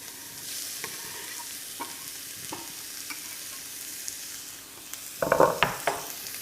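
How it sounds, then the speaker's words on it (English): Onions in olive oil in a pan, with a steady soft sizzle and a few light clicks, then a louder crackling burst near the end as they hit the hot oil, close and without speech. "Olive oil into the pan. Okay. Let's get our onions in."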